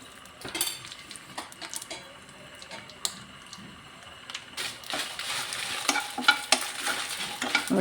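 Spices frying one by one in hot oil for a sardine fish curry, a soft sizzle growing louder and busier as metal spoon scrapes and clinks against the pan stir them.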